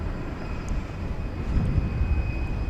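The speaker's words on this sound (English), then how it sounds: "the Singapore Airlines cargo 747-400 about to land" Singapore Airlines cargo Boeing 747-400 on approach to land at DFW at night, a steady low jet rumble that strengthens slightly partway through, heard alone.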